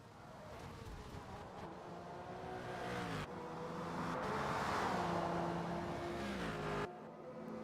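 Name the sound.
race car engine on track in a racing video game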